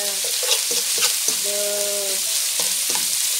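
Sliced onions sizzle in a pan with lamb shoulder, a steady close fry with a few stirring scrapes; a brief tonal hum of harmonics runs through the middle, with no talk.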